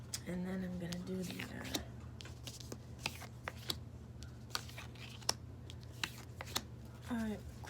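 A deck of clarification cards shuffled by hand, with quiet repeated flicks and clicks up close, and a speaking voice at the start and near the end.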